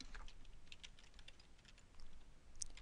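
Quiet typing on a computer keyboard, a soft irregular patter of keystrokes with short pauses, close and faint with no talking.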